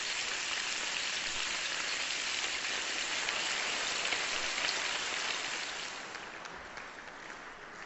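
Strips of bacon frying in a pan give a steady, dense crackle and hiss that sounds just like rain on a surface, easing slightly softer near the end.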